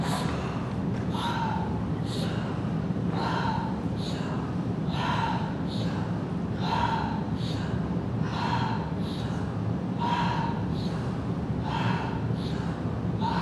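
Deep breaths drawn in during a yoga breathing exercise, heard as steady, rhythmic, close puffs of air at about one per second, repeating alone over a soft background hiss.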